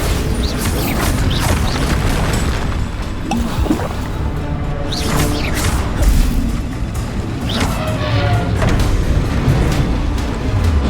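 Confringo fire-blast spells cast repeatedly in Hogwarts Legacy combat, with loud booming bursts over a dense, continuous wash of game effects.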